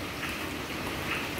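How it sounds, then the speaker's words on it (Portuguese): Steady rain pours down during a storm, a dense continuous hiss of drops hitting surfaces, close and moderately loud with no voices over it. "começou a chover aqui, deu uma maior tempestade"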